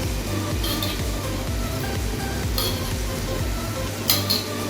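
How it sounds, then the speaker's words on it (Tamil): Yogurt being stirred into sizzling biryani masala for Dindigul Thalappakatti mutton biryani, a steady frying sizzle under repeated scraping strokes of a spoon against the pot, with a few sharper metallic clinks near the end. "அதையும் சேர்த்து நல்லா கிண்டிடுங்க"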